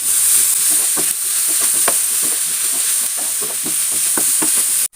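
Crushed green chillies sauté with masala in a hot pan for a tuna kalmas dish, a close steady sizzle broken by repeated scraping stirs of a spoon, no voices.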